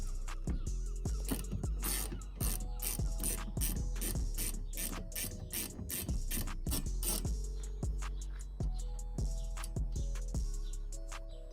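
Ratchet on a 15mm socket undoing bolts on a Mk2 Ford Focus ST, a rapid run of sharp clicking bursts close to the microphone, repeating steadily with brief pauses between strokes.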